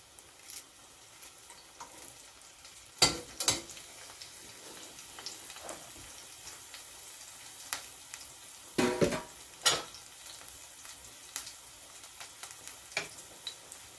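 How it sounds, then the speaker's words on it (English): Jamaican-style curry conch stew with tomato and garlic cooking over medium flame, giving a quiet, steady sizzle under scattered scrapes and clanks of a spoon stirring the pot, close by, with no talk. "So I need to put my flame and medium. So I'm just gonna stir along."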